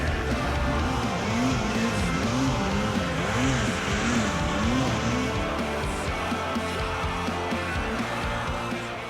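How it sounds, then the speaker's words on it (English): A Yamaha Mountain Max 154 snowmobile with an 800cc two-stroke engine drones loudly and steadily, its pitch swinging up and down in a continuous wavering rhythm with no voices over it. "This is a Yamaha Mountain Max 154 with an 800cc two-stroke."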